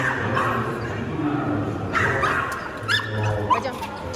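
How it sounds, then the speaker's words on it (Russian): Small dogs yip and bark in short bursts at a busy indoor dog show among bichons, a Jack Russell, a Shelti and a corgi, heard under steady crowd chatter and nearby talking. "Друзья, на этой выставке очень много разных собак."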